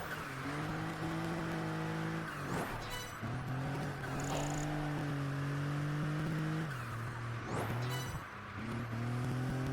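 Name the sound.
CTR Yellowbird car driving in video game Project Gotham Racing 4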